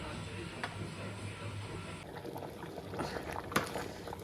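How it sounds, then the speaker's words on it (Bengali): Khichuri boiling in a pot, a low bubbling simmer with faint popping and a few sharp ticks, quiet and close throughout without talk. "দেখো অনেকটা ফুটে গেছে"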